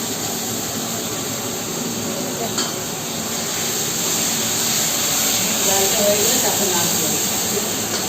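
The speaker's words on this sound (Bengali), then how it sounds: "শুকনো লঙ্কা বাটা নুন হলুদ দিয়ে মশলাটা কষানো হবে" A spice paste of ground cumin, dried red chilli, salt and turmeric fries in a pan with a continuous loud hiss and sizzle, and faint stirring scrapes run under it.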